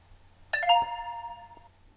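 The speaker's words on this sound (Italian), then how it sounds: "premiamo il tasto dovrebbe apparire una notifica" A phone chimes a short two-tone notification, sent through the Blynk app and triggered by an Arduino MKR1010 board, with bright bell-like tones ringing out and fading over about a second in a quiet room.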